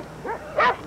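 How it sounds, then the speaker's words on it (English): Dogs barking: two short, sharp barks or yelps in quick succession, fairly close and moderately loud, with no talking. "I've never heard so many dogs."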